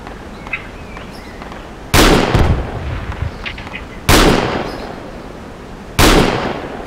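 Gunfire in the military shooter Project Reality sounds as three loud, sharp shots spaced about two seconds apart, each with a long rolling echo, over quiet ambient background.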